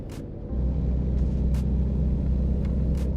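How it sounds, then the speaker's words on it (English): A Volvo VNL 2014 truck engine in a driving simulator game starts as a deep, steady rumble after half a second and holds a constant loud drone, with a few brief hissing bursts on top. "I'm driving a Volvo truck. So this is the sorry, Volvo VNL 2014"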